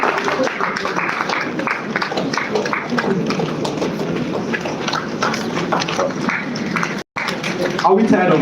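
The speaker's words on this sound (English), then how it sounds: "Please put your hands together for Engineer Kenechukwu Oko. Keep clapping until he comes." A large audience claps steadily and densely at an award presentation during an Ebonyi State education event, a continuous roar of hands that holds for several seconds, breaks off sharply near the end, then resumes.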